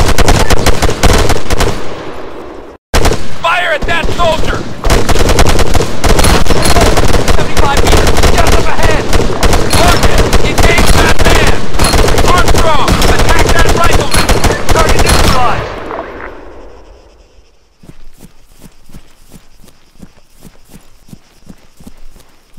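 Heavy automatic gunfire in the Arma 3 video game: dense, loud, continuous bursts of rapid shots for about fifteen seconds, briefly cut once, then fading into sparser distant pops.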